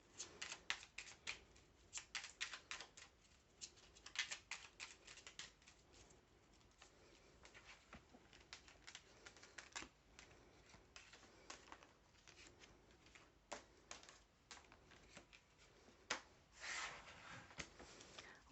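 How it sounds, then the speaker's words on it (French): Tarot cards shuffled and drawn by hand, a quiet stream of soft flicking, riffling and tapping with occasional sharper slaps, close but faint throughout. "Allez, on va tirer 3 cartes."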